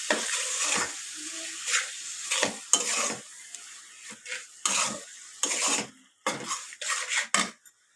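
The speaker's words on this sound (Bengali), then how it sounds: "মাংসের সাথে বেজে নিচ্ছি চিকেনটাকে।" Chicken frying with meat in a pan while being stirred, a close sizzle punctuated by scraping and clinking of a utensil against the pan in uneven strokes, without talking.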